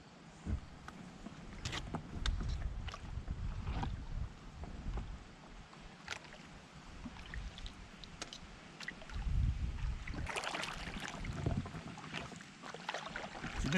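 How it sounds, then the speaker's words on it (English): An Oru Haven folding kayak is paddled in heavy wind, with uneven splashes and drips from the paddle strokes, hull knocks, and gusty wind buffeting the microphone throughout. No voices are heard. "A bit of a struggle paddling out here in the wind."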